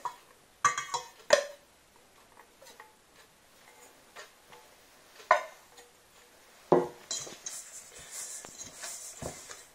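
Soft butter worked into spiced speculoos dough in a bowl: scattered scraping and tapping strokes of a utensil against the bowl, a few sharper knocks among quieter stirring, close and fairly faint.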